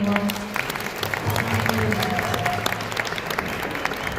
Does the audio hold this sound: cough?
no